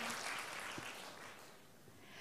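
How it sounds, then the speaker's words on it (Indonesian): Audience applause at a sales seminar, a faint, distant patter of clapping that fades slightly toward the end. "Boleh tepuk tangan dulu."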